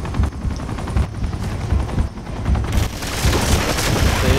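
Helicopter in the video game Uncharted 2: Among Thieves: a loud, steady rotor roar fills the whole stretch, mixed with bursts of gunfire and booms, growing slightly louder and busier toward the end.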